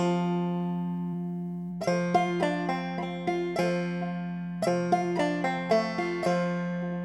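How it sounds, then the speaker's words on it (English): A banjo rings a sustained low note, then picks a bright run of notes stepping downward, played twice, alone and close. "And just do this little descending piece here."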